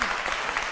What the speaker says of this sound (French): On continue de l'applaudir pour lui dire au revoir.